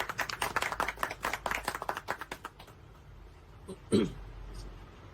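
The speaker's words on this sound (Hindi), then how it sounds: "इस बात पे ताली और खुशी भाई" A small group claps at a book launch with a quick run of distinct, close handclaps that thin out after about two and a half seconds, followed by near quiet and one brief louder knock.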